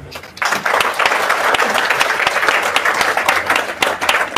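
Sustained applause from a seminar audience at a business event in Faridabad, starting abruptly after a brief quiet moment and continuing as dense, steady clapping throughout.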